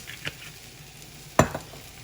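Onions frying in olive oil in a pan give a quiet background sizzle, broken by two short scraping stirs, the second louder and closer.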